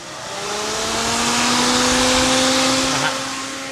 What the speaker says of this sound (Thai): เสียงนี่ เป็นเสียงพัดลมนะฮะลูกค้า